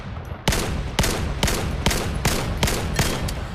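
Seven sharp, loud Desert Eagle pistol shots from the Vail game ring out at a steady, unhurried pace, roughly half a second apart, each with a short ringing tail and no talking between them.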